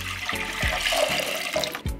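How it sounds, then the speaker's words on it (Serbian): A litre of water is poured into a cooking pot for a meat marinade, a close, gurgling splash that runs continuously for a couple of seconds. "Za to mi je potrebno litar vode koju ću sipati u jednu šerpu"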